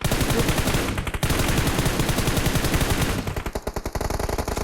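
Sustained rapid automatic gunfire in the mobile battle royale game PUBG Mobile, loud and close, a dense rattling stream of shots with a brief gap and a sputtering burst near the end.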